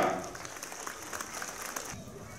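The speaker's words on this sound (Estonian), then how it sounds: "teeme aplausi Kuno Raudele ja Lembit Palmile ja ootame neid siia" Audience applause at the opening ceremony of a new town centre in Väike-Maarja, Estonia: a burst of many hands clapping that starts strong, then thins and fades.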